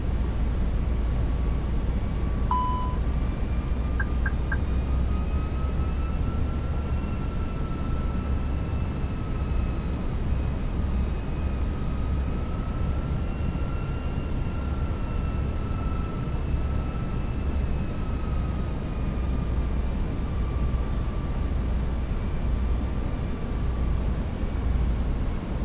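Simulated engines of a Fenix A320 airliner running in Microsoft Flight Simulator 2024, a steady, loud broadband roar with a faint sustained whine drifting slightly in pitch throughout, unbroken and with no talk.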